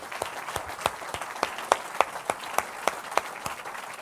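A church congregation applauds and cheers during worship, a steady wash of clapping with sharper accented claps at a loose rhythm, fairly close and sustained throughout.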